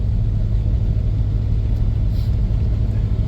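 A 2002 Dodge Durango SXT with high mileage idles steadily, its engine a continuous low rumble close by, unchanging and with no voices over it.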